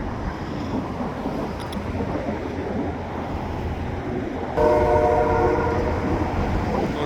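Old diesel switching locomotive working a rail yard, its horn sounding a sustained tonal blast partway through over steady rumbling engine and wagon noise.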